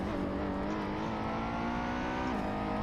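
Steady, loud engine drone of a Ferrari 488 Challenge race car in the Assetto Corsa video game, holding a constant pitch with a brief shift near the end and no voices.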